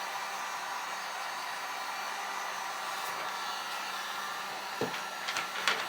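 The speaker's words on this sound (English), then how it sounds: "So this is my heat gun." A heat gun blows hot air to melt powder on DTF transfer film for a Gildan cotton T-shirt, a steady close whooshing roar held throughout with small clicks near the end.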